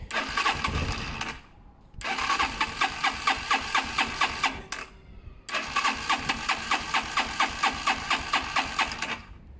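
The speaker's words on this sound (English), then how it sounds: "a bike should never be so difficult to start. It should start straight away." A Zontes motorcycle engine cranks and catches in three tries after being hard to start, each attempt settling briefly into a rapid, even idle thrum before cutting out, close and fairly loud with no speech.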